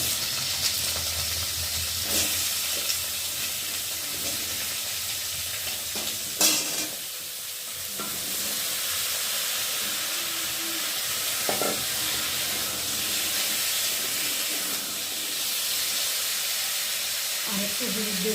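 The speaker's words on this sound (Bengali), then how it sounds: "সবজিটা দিয়ে ভালো করে ভেজে নেব।" Cut papaya pieces fry in hot oil in a kadai for a soybean dish, producing a steady, bright sizzle with occasional stirring knocks and scrapes throughout.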